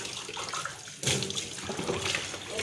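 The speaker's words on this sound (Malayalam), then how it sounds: "പിന്നെ അടുത്ത പണി നമ്മുടെ ടാസ്ക് എന്ന് പറഞ്ഞാൽ പാത്രം കഴുകലാണ് കേട്ടോ" Dishes being washed under a running kitchen tap, a continuous hiss of flowing water that surges louder partway through, with faint clinks and splashes and no talking.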